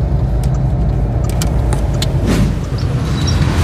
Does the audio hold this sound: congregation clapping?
no